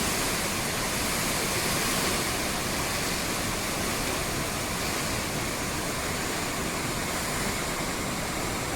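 Fast, swollen flood water rushes down a hill stream during monsoon flooding as people fish in it, a loud, steady, dense roar holding at an even level throughout with no voices.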